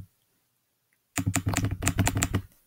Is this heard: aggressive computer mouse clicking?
yes